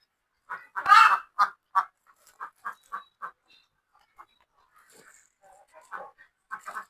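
Ducks and chickens give short clipped calls in a quick series, one louder squawk near the start and softer scattered calls after, fairly close in a quiet yard.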